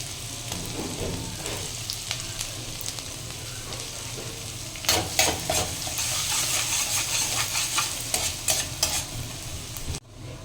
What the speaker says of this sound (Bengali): তেলটা এখানে গরম হয়ে গেছে এখানে প্রথমেই আমি দিয়ে নিচ্ছি এখানে রসুন কুচি আর দিয়ে নেবো আমি এখানে আদা কুচি